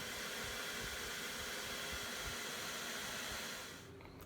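A hair dryer powered by an EcoFlow River 600 Max portable power station blows steadily on its highest setting with a loud, even whooshing roar, cutting off near the end.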